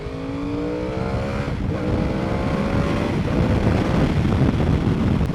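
A 2024 Yamaha R1M sport motorcycle accelerating on a ride during break-in, its engine note climbing through rising revs with a gear change midway, close and loud over wind noise.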